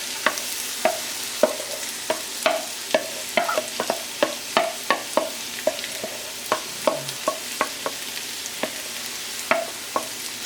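Purple onions and chili peppers fry in a pan for a vegan lentil stew, a soft sizzle punctuated by regular sharp taps and scrapes of a utensil stirring, roughly twice a second.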